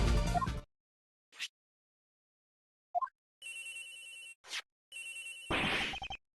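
A phone rings in the Ace Attorney Investigations video game, repeated electronic ring tones in short bursts separated by quiet gaps, with a few other game sound effects mixed in.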